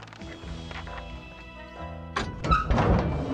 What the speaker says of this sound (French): c'est aujourd'hui que je te donne ta méga ration parce qu'on va ouvrir cette porte